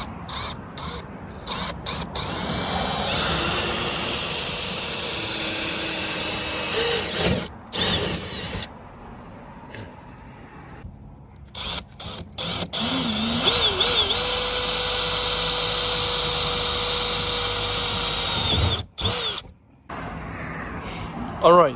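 Power drill boring holes through the trunk lid of a 2020 Nissan GT-R, with bursts of whirring and ratcheting broken by short pauses, loud and close, while a person talks intermittently over the work.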